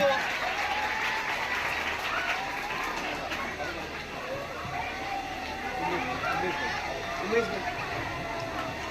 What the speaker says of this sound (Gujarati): વિદ્યાર્થીઓ આપણે તાળીઓથી વધાવીશું.